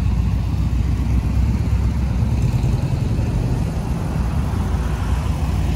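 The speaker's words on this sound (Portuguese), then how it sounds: "Bora filmar esses carros todos saindo daqui do evento." Air-cooled vintage Volkswagen Beetles and derivatives leaving a classic car meet in Louveira, São Paulo, a loud, continuous low engine rumble close by, with no clear individual revs standing out.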